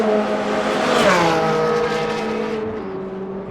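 Race car engine from the Le Mans Ultimate racing game at the 24 Hours of Le Mans, loud and steady through the lap, its pitch sweeping up and down through gear changes, alone without talk.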